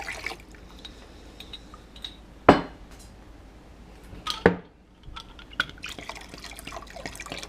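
Sanitizer liquid is swirled and rinsed inside glass beer bottles during homebrew bottling. Soft sloshing and dripping are punctuated by a few sharp glassy clinks and knocks, heard close and without speech.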